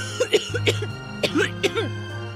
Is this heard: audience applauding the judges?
no